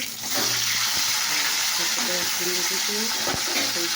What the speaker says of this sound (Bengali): আমার মাছ ভাজা হয়ে গেছে। তো তেলটা তাতে আছে।